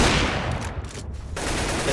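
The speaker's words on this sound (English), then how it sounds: "Dead Fox eats a headshot" Gunfire in Counter-Strike: Global Offensive during a professional esports match on the Cobblestone map, a dense, loud burst of shots packed closely together with no talk.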